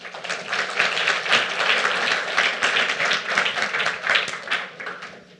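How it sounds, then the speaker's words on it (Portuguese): Audience applause at a tech talk welcoming a speaker on using Lua in the 2014 World Cup streaming, moderate clapping that swells and pulses unevenly throughout without any voices on top. "Uma salva de palmas, por favor."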